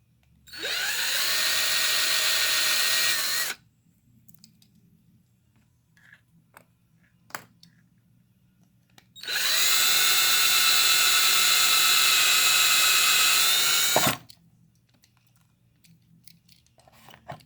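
A power drill whirs in two long bursts, the second longer, drilling holes in a 1/64 Hot Wheels diecast car, with quiet handling clicks and taps in between.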